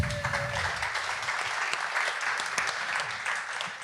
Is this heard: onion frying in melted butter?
no